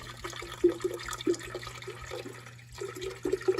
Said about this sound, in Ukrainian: зразу я налию води